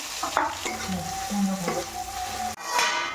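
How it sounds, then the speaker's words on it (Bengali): Chopped onion and garam masala frying in hot oil in a kadai, a close sizzle with spatula scrapes and a few sharp crackles, a brief gap near the end before the frying resumes. "এখন কড়াইতে তেল দিয়ে দিয়েছি আর আমি এখন দিয়ে দেবো গরম মশলা এবার দিয়ে পেঁয়াজ কুচি"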